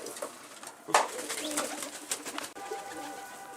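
Pigeons coo softly in a loft or rooftop setting, with brief wing flutters and other bird sounds, no speech present.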